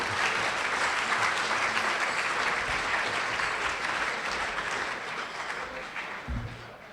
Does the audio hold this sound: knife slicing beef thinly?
no